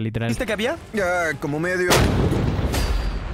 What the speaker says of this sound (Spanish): pero mejor disparemos las últimas balas